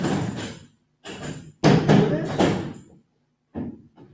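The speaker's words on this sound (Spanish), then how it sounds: "Me parece escuchar algo. Creo que la puerta." A stuck door that won't open is rattled and thumped in several rough, clattering bursts of about half a second each, separated by short silences, close by.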